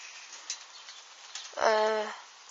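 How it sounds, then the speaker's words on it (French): Soft scattered patter of large raindrops across a roof as a thunderstorm begins, followed by a sharp, harmonic squeak near the end. "Grosse goutte énorme qui commence à tomber."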